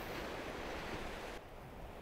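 Sea waves at Polperro, Cornwall make a steady broad wash of surf and wind, with the hiss easing slightly partway through; it is moderately loud and continuous, with no voices.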